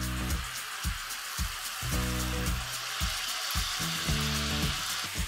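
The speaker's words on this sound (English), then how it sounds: "To this, I'm going to add 300 grams of beaten yogurt" Beaten yogurt, 300 grams, hitting a hot pan over a high flame and sizzling steadily, with bursts of bubbling and spitting repeating through the clip, close and fairly quiet, no voices.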